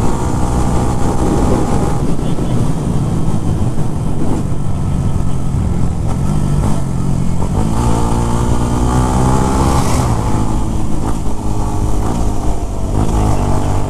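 A motorcycle engine runs loud and steady on the mountain road between Claveria and Gingoog, a continuous close drone with rising revs and wind rush, no talk.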